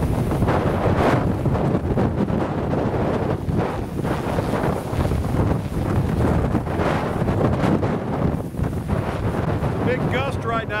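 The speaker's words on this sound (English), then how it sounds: "It's a big gust right now." Strong wind roars and buffets the microphone in heavy, sustained gusts around 35 on a wind meter, during a DJI Matrice M210 drone battery test, with a faint voice briefly audible underneath.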